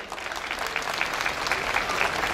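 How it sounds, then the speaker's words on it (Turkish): Applause from an audience at a Black Sea regional days stage event, continuous crowd clapping with a lively, even texture throughout. "Onlara da bir alkış."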